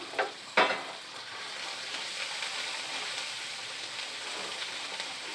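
Chopped ginger and garlic fry in a hot pan with a steady, soft sizzle, opened by two sharp stirring clicks.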